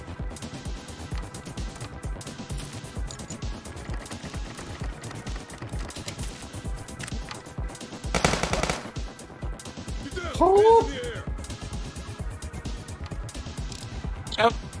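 Game gunfire from Police Stories rattles in quick bursts across the clip, mixed with busy in-game sounds, a brief loud rush and a rising whine, while voices talk throughout.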